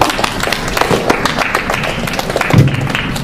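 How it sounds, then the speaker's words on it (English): Applause at a university open-mic event, loose clapping from a modest audience with scattered sharp claps and a few thuds, fairly close and lively throughout. "Please give him a round of applause."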